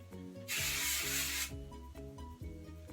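A single one-second burst of hairspray from an aerosol can hisses loudly onto hair, clearly above steady background music that plays on before and after.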